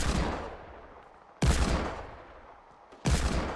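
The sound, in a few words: gunfire in the video game Fortnite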